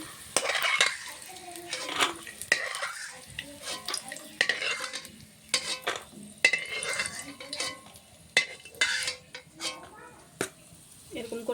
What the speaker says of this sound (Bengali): বাদামটা লাল লাল করে ভেজে নিয়েছি এখন নামিয়ে নিচ্ছি